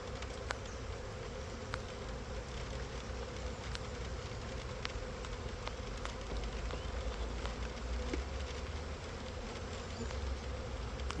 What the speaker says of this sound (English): Now I gotta get all these bees to go out of the way so I can get these boxes back together